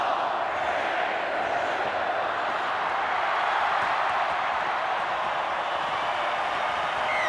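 A stadium crowd at a 1996 State of Origin rugby league match roars continuously at full time, a broad sustained wash of cheering and shouting from thousands of fans, loud and unbroken.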